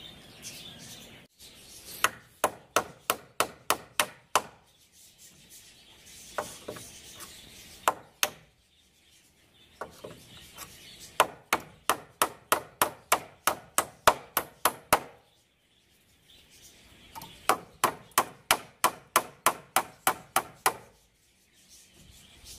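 Wooden braces are hammered onto a wooden stair step, with bursts of rapid sharp knocks separated by short pauses and a quiet background.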